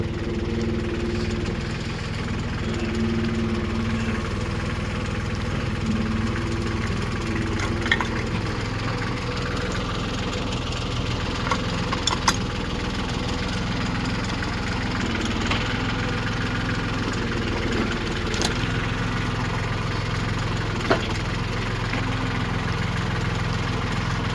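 A log splitter's engine idles steadily at moderate distance for the whole stretch, a low even drone with occasional faint knocks and light clinks over it.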